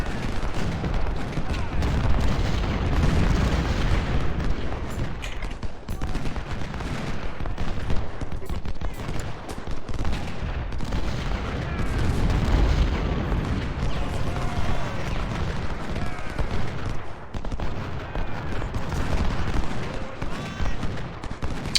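Cannon and rifle fire in the Civil War strategy game Ultimate General roll on continuously as a far-off battle din, with repeated booms and crackling volleys under a speaking voice.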